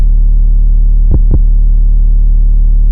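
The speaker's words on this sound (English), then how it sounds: "bring in a little bit more unique of an 808 sample" A deep, booming 808 bass drum sample sustains throughout, with two quick percussive hits near the middle, played on its own with no voices.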